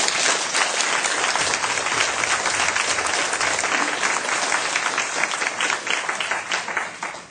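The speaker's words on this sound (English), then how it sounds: "I think we could give them a little applause." An audience at a mayoral debate in Brantford applauds for several seconds, a dense wash of clapping that holds steady and then thins out toward the end, with no voices over it.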